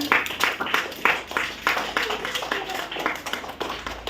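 A group of children claps hands in a classroom, with a quick, uneven run of sharp claps going on throughout and a little chatter mixed in.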